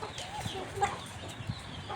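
Deshi hens, ash-grey in colour, give a few short, soft clucks close by in a quiet farmyard setting, with brief pauses between the calls.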